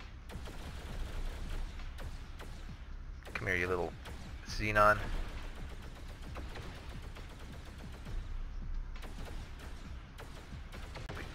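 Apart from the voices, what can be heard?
particle accelerator cannons firing at Xenon ship, X3TC video game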